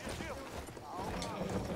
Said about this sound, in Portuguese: Olha o cavalinho ali.